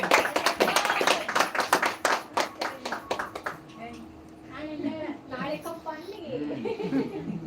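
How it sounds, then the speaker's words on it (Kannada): An audience claps after a child's Kittur Rani Chennamma fancy-dress performance: dense, lively applause for a few seconds that then fades out as people start talking. "ಚಪ್ಪಾಳೆ"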